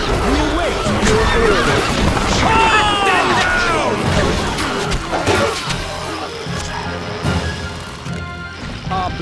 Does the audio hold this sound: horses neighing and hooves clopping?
yes